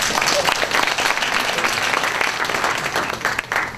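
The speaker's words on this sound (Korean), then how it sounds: "저기 키 쬐깐한 양반 박수 한번 쳐주십시오." A hall audience at a Suncheon village-making talk applauds a civil servant, loud dense clapping sustained throughout with no talk over it.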